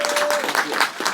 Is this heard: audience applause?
yes